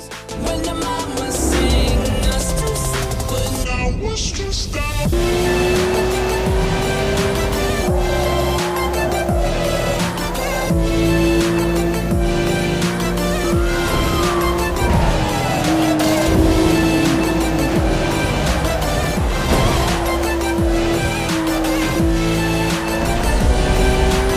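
Car engine and tire squeal in Need for Speed Most Wanted during a test drive of a tuned car, with steady revving and gear shifts under game music, loud and continuous throughout.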